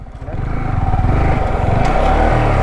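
A Yamaha R15 motorcycle ridden off-road near Kanyakumari: its engine quickly rises to a loud, steady buzzing drone with a throbbing pulse that continues to the end.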